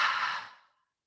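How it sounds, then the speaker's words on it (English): A slow, breathy exhale during yoga breathing practice, a single close airy rush that fades out within about a second. "And then exhale, push it out."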